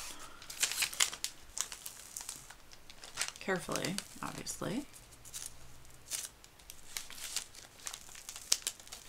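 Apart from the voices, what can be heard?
parchment paper being pulled up and crinkling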